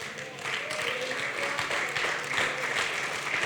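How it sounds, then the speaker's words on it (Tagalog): A church congregation applauds during a Sunday service, a dense, moderately distant spread of clapping that swells after a brief start and holds steady throughout. "Lahat ng pumalakpak ay sumasang-ayon"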